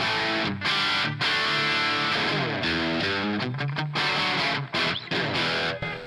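An electric guitar runs through the crunch preset of a NUX MG30, strumming loud, gritty chords in choppy bursts with brief gaps between them.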